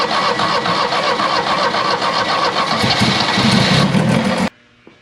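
A 1975 Chevy Vega Cosworth twin cam engine, abandoned for years, runs loud and close with a busy, rough mechanical clatter and steady idle that rises slightly before abruptly shutting off near the end.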